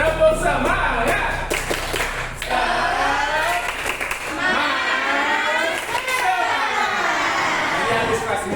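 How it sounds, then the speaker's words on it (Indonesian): A classroom of pupils doing a rhythmic tepuk semangat clap routine, bursts of clapping mixed with loud chanting and lively chatter from the group throughout. "Coba kita tepuk semangat lagi."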